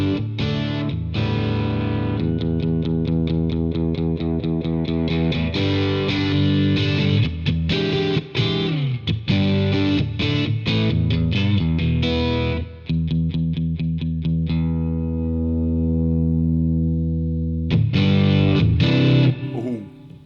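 Heavily distorted electric guitar through a Marshall DSL20H amp with the gain turned up plays a run of chunky, rhythmic chords with a thick low end, stopping briefly near the end before a final chord.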